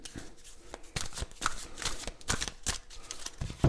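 Tarot cards shuffled close up, a soft papery riffle and patter of cards repeating over several seconds, with no talk.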